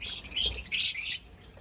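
Pet birds with violet plumage, opaline single-factor type, chirping in a busy chorus of bright, high-pitched tweets with short bursts and pauses, fairly close and loud, no talking.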